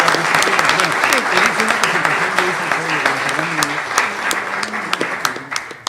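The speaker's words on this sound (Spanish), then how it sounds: "Un aplauso" Applause from a conference audience in honor of an absent genealogist, steady crowd clapping with distinct sharp claps, loud at first and tapering slightly, with faint voices beneath.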